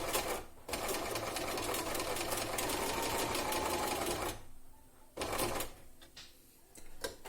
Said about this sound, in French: Je tiens mon fil au départ, mon aiguille est à l'extrême gauche et je peux piquer.